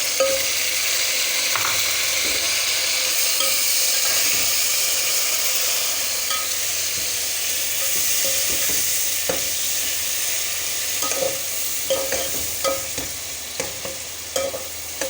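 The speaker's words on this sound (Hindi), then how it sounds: "अब मैं इसको बहुत अच्छी तरीके से भूनूंगी।" Chicken pulao masala with tomatoes, dried fenugreek and green chillies frying in a pan, a steady sizzle with scraping spoon stirs that become more frequent toward the end, close and moderately loud with no talk.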